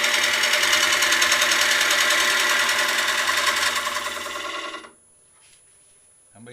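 A wood lathe spins a piece of turning wood with a steady, loud, whirring hum for several seconds, then winds down and stops, leaving near silence.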